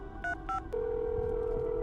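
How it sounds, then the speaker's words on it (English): A telephone call effect: two short dial tones, then a steady ringback tone held continuously, clean and moderately loud. "Anderson made a phone call."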